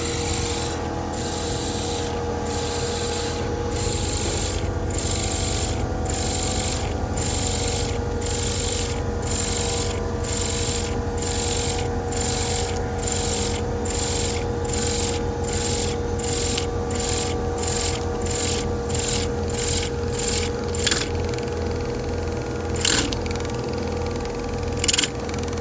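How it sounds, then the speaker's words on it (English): A valve seat machine cuts and blends the seat profile into the cast iron of a 7.3 diesel cylinder head, giving a continuous raspy grinding with rhythmic scraping pulses over a steady machine hum, close and without talk. "what we're now doing is blending the valve seat profile into the parent material, or the cast iron material"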